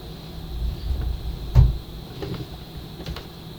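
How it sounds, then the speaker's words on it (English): A cat knocking against a closed door from the other side: a single dull thump in the middle, followed by a few faint taps, over low room hum. "The cat's trying to knock down my door."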